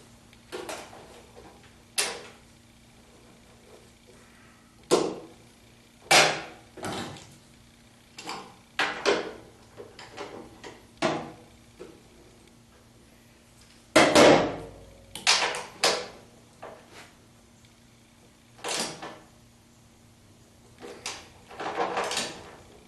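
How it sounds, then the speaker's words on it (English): A manual wrench working bolts on a Holley in-tank fuel pump for a 1976 Corvette, giving a run of sharp metallic clicks and clanks in irregular bursts over a quiet hum. "Let's try it with a manual wrench."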